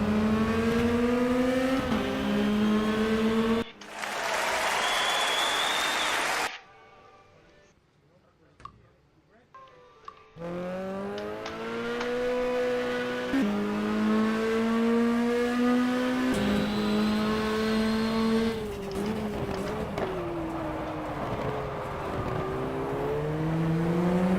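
A race car engine revs in the GTR 2 racing game, with rising and falling tones through gear changes and a brief quieter break. It is loud and steady throughout, with commentary over it.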